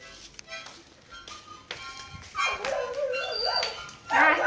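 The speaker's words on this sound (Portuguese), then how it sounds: "Hoje eu vou mostrar o meu cachorro cantando." A dog howls as if singing, rising and falling wavering cries that begin softly and grow louder toward the end, with some quiet tapping and background noise before.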